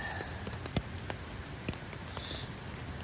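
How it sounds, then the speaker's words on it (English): Steady rain patters on tents at a wilderness campsite overnight, a dense hiss with scattered louder drops striking close by, continuous and alone without voices. "Man, this rain has been relentless"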